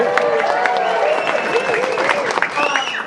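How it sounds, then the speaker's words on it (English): An audience at a celebration-of-life gathering claps for a five-year-old girl, a continuous patter of hand claps with some cheering mixed in and voices talking over it, fairly close and steady for a few seconds. "Everybody give her a clap."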